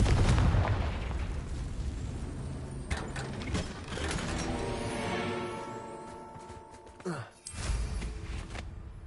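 The Confringo fire spell from a Hogwarts video game goes off in a burst of booming explosive blasts, loud and dense at first, then fading with a sharp crack and a final rumble near the end.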